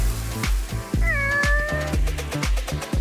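Cartoon cats meow in a lively, high-pitched run of calls, one drawn-out meow standing out clearly over a busy, rhythmic music bed with repeated beats.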